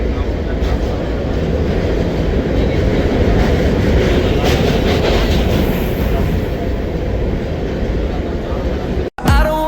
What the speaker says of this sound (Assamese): এতিয়া আমি ব্ৰহ্মপুত্ৰ ক্ৰচিং কৰি আছোঁ ট্ৰেইনেৰে